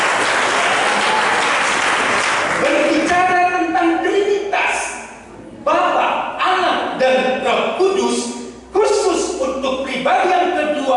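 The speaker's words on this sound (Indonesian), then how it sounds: "Berikan tepuk tangan bagi Dia." A church congregation at a Christmas service bursts into loud, dense applause that fills the room for a few seconds, then continues in patches while voices and music carry on over it.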